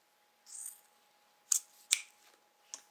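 Scissors trim bag-making material up close: a soft slicing swish followed by three sharp, crisp snips spaced apart in a quiet room.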